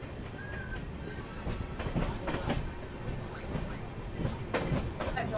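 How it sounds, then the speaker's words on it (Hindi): Radhikapur Kolkata Express passing in the opposite direction, heard from inside a moving train near Malda: a steady rumbling roar with rhythmic wheel clatter and a few louder thumps throughout. "सामने से ये जो ट्रेन आ रही है ये है राधिकापुर कोलकाता एक्सप्रेस"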